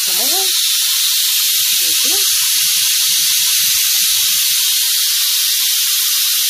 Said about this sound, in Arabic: اهم حاجه نخرج البخار بتاع الحله بتاعتنا قبل ما نفتح